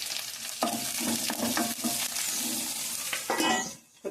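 Onions fry in a pan with a loud, continuous close sizzle, broken by scraping stirs, before the sound briefly drops off at the end.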